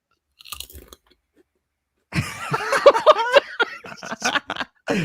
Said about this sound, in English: just munching there